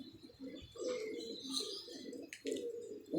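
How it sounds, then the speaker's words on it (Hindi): Golden pigeons coo in soft, repeated low throaty phrases close by, with a faint chirp or two in the background. "बहुत अच्छा कबूतर है"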